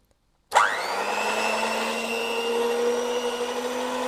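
An electric mixer whips about 100 ml of cream for a cake in a home kitchen, switching on abruptly and then holding a loud, steady motor whine that rises slightly as it runs.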